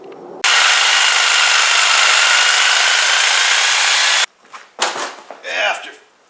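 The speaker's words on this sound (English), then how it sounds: "get a Sawzall and cut it off, and then buy new bolts and bushings" A Sawzall reciprocating saw cuts through a stuck bolt on an Allis Chalmers 310 tractor, a loud continuous rasping buzz lasting about four seconds, then stopping abruptly, followed by a few short scraping and clattering sounds.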